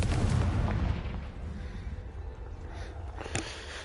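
Fire and explosive spells from the Hogwarts Legacy video game burst with a loud booming blast up front that fades into a rumbling decay, followed by a sharp crack near the end.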